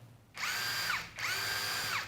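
A red ONEVAN cordless screwdriver drill fires in two short bursts, each a close, whining motor spin of under a second with a brief pause between, no talking.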